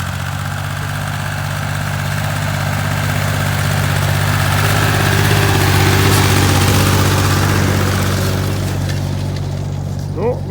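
A tractor engine pulls away while sowing between vegetable plots, with a steady, loud low rumble and throb that holds for the whole stretch and swells slightly midway.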